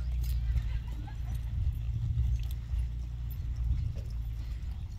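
A ridden horse walks at a Western Horseman show in Oregon, its hooves clip-clopping softly over a steady low rumble of outdoor background noise.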